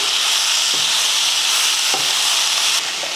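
Tomatoes sauté in a hot pan with mint, coriander and curry leaves, giving a steady close sizzle and frying hiss that runs throughout, broken only by a couple of faint stirring taps.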